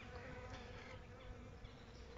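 A steady, dense buzzing of many gentle black honey bees at a hive, continuous and close, with no voices.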